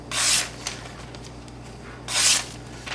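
A Cold Steel Mini Recon 1 knife blade, a thick hollow-ground edge, is drawn across a sharpening surface in two distinct rasping strokes a couple of seconds apart. Faint scraping fills the gap between them.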